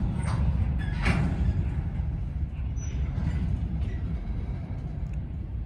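Freight roadrailer train rolling past up close in Peru, Indiana, a steady, heavy rumble of wheels and cars with a few sharp metallic squeals and clanks, no talking.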